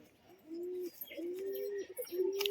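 A female pigeon coos in three drawn-out, low calls, the last one rising, close by against quiet background rustling.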